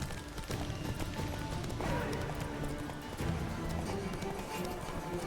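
Rapid rhythmic hoofbeats of a galloping horse thud continuously under a busy, noisy soundscape in The Witcher 3.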